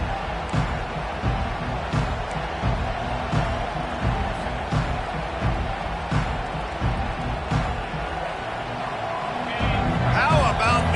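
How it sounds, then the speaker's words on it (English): A college football stadium crowd roars steadily throughout, a dense wash of cheering and noise that swells louder near the end as fans try to help their defense. "How about this crowd rattling the rafters and trying to help their defense?"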